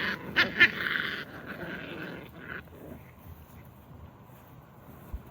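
A dominant seven-and-a-half-week-old pup growls and yelps in short bursts at close range, loudest in the opening seconds, then settling into quieter rumbling and scuffling with a soft dull bump near the end.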